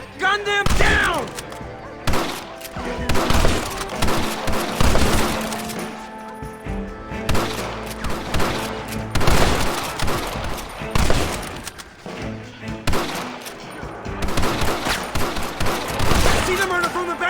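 Gunfire in the Western video game Red Dead Redemption, dense bursts of rapid shots and volleys with impacts, loud and near, continuing almost without pause, with voices speaking among the shots.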